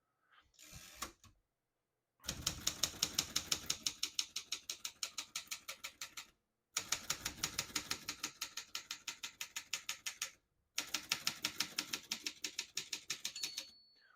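Typing on a 1972 Consul 231.3 vintage portable typewriter: three bursts of rapid, close mechanical key strikes with sharp clacks, separated by brief silences, ending in a bell ding.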